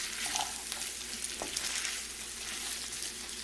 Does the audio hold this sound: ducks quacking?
no